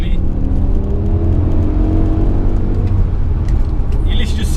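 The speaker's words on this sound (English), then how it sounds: "you're literally just surrounded by V10 noise, and it just keeps pulling" A BMW M5 E60's V10 engine roars continuously and loudly from inside the car, a dense rising rumble as it pulls hard through third gear on a private road.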